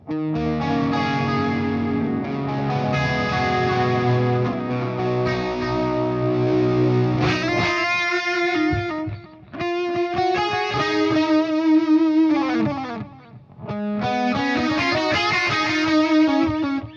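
Electric guitar through a 2290 P Dynamic Delay pedal with the delay turned down, a long melodic passage of sustained, bending notes with evened-out echoes beneath, briefly pausing twice before swelling again.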